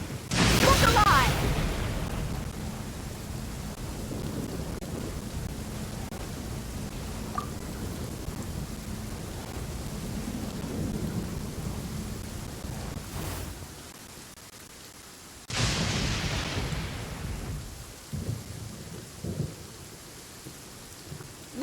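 Rain and thunder in the video game Genshin Impact: a steady downpour hiss with a loud thunderclap at the start and another crack midway, with voices over parts of it.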